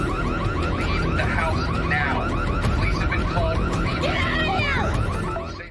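A warbling electronic house burglar alarm sounds continuously and fairly loudly, mixed with cluttered background noise, and fades at the end.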